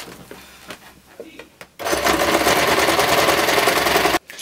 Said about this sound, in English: Now we need to sew at the right at the edge of the waistband,